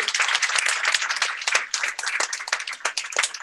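Audience at a coding bootcamp demo day claps steadily throughout, a dense, close patter of many hands without a break.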